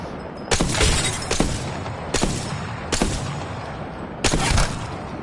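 Sniper rifle shots in the Apex Legends video game: four sharp, loud cracks spaced about a second apart, each trailing off into a brief echo.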